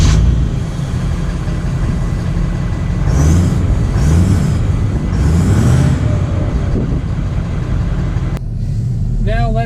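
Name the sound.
2019 Ford F-250 Power Stroke diesel truck setting off and driving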